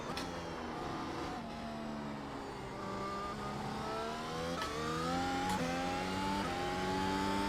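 A Mercedes W12 Formula 1 race car engine on a Zandvoort hot lap in a video game: a high-pitched, steady onboard whine that climbs through the revs, dropping sharply at several quick gear shifts, with no talking.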